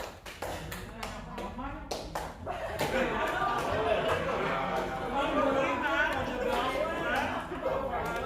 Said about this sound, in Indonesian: Kemudian tepuk empat.